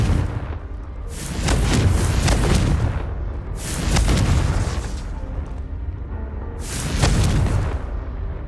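Three deep booming blasts of the Confringo explosive spell in Hogwarts Legacy, each a loud rumbling burst that swells and fades over about two seconds, spaced evenly apart with no talking.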